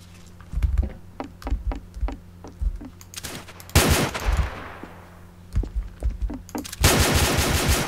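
Loud automatic gunfire rattles through a video game shootout in several sharp bursts, with lighter keyboard tapping and clicking heard between the volleys.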